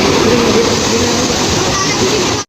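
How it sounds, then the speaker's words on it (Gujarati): Water pouring down at a waterfall by a Mahadev temple, a loud steady rushing roar filling the whole stretch without a break, then cutting off abruptly at the end. "પાણી કેટલું મસ્ત પડે"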